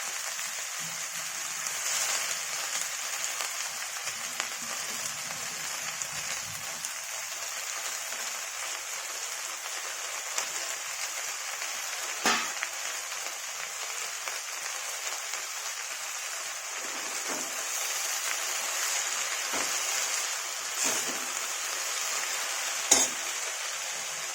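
Chopped fenugreek greens fry in a pan with a steady, even sizzle and occasional stirring scrapes and clicks, with no talking.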